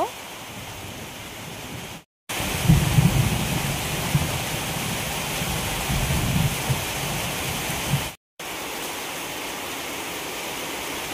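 Steady rain pours down in a dense, even hiss, loud and close, broken briefly by two short gaps of silence.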